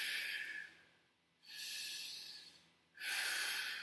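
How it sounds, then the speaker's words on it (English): Close-up human breathing: three slow cycles of inhaling and exhaling, each a soft airy rush separated by brief quiet pauses, with no talking. "Now what's happening is I'm inhaling, exhaling, inhaling, exhaling."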